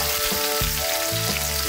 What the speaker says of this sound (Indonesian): Kita goreng bumbunya.